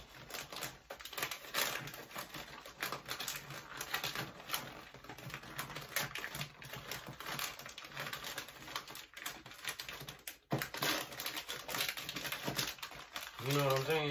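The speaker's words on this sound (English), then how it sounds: "And you just want to crumple it." Wrapping paper is crumpled over a gift during holiday present wrapping, giving a steady close crinkling and rustling texture that runs throughout, with someone talking over it.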